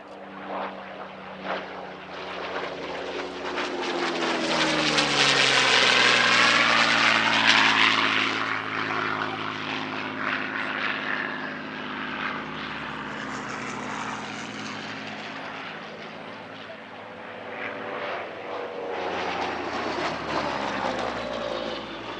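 A Spitfire propeller fighter flies past at the Shuttleworth airshow, its engine drone swelling loud overhead, sweeping in pitch, then fading and rising again as it circles, with no talking.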